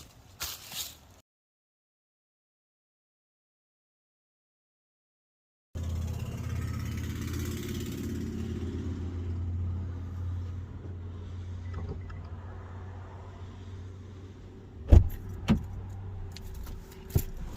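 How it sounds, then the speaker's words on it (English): A Subaru Outback out on a test drive: after a short clatter and a stretch of silence, a steady low engine and road rumble fills the cabin, with a few sharp clicks and knocks near the end. "We're going to go for a little test drive."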